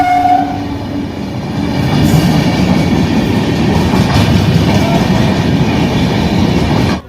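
A train at Nalpur station in Howrah gives a short horn blast, then rumbles and clatters loudly and steadily close by until it cuts off.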